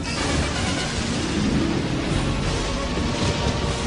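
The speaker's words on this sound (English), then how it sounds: "The thunderstorm attacked the tall pine with a vengeance. Rain pounded the earth." Steady, dense rain roaring without pause, with a low rumble throughout like distant thunder; no voices, constant and fairly loud.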